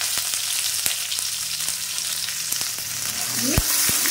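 Chopped onions sizzle in hot oil with cumin seeds, bay leaf and ginger, a steady loud frying hiss with occasional clicks of stirring, close up.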